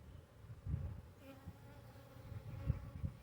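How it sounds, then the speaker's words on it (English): Honey bees buzz around an open hive during a January brood check, a close, low hum with a few louder swells as individual bees pass near. "I got pollen on this bee right here."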